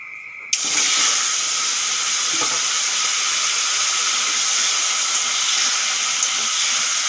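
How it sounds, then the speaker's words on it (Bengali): After a brief quiet start, a loud burst of sizzling as turmeric-and-salt-coated potatoes hit hot oil in a kadai, then a steady, close, hissing fry that continues throughout. "এখন মাংসের জন্যে আলু ভেজে নেব তার জন্য দিয়ে দেব কড়াইতে তেল"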